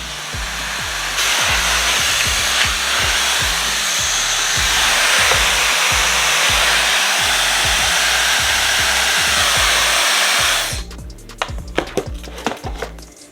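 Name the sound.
lightweight blow dryer with brushless motor drying hair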